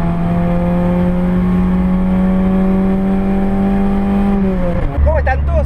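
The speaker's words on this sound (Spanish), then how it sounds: "Escuchalo acelerando." A car fitted with a Pointer GTI cam revs up on the street, its engine pitch rising steadily and loud up close before dropping off abruptly as the throttle closes.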